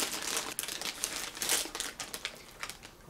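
Scissors cut open a plastic merchandise mailer, giving close, dense crinkling and crackling of the plastic in uneven bursts with no talk.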